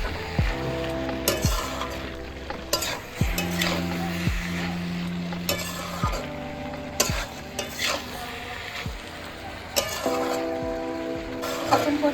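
Boiled jackfruit curry being sautéed in a pan, with a soft continuous sizzle under repeated stirring and scraping of a spoon against the pan, plus occasional metallic clinks, close and moderately loud.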